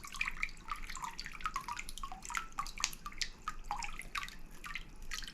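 Water drains and drips from a pot of purple sweet potato slips lifted out after being submerged, a soft, continuous trickle of irregular drops close by.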